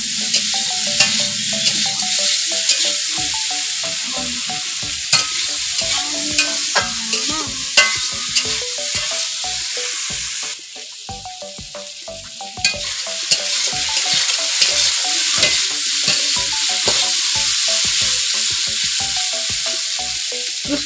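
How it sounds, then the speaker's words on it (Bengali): Figs frying in a pan with turmeric, a steady loud sizzle running throughout with repeated scraping strokes of a spatula stirring against the pan. "এইভাবে ডুমুরটা ভেজে নিতে হবে।"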